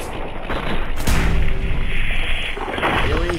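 Gunfire in the Fallout 4 video game, a single heavy booming shot followed by a softer second report, close and punchy with no talk.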